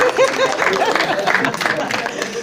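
An audience claps for winners at an annual school event, a short burst of applause mixed with crowd chatter and voices.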